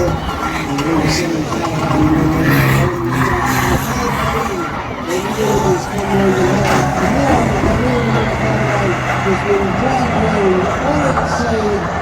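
Banger racing cars at Lochgelly Raceway roar and skid around the oval track toward a caravan left on it for them to crash through, engines droning steadily under a crowd and loud nearby talk throughout.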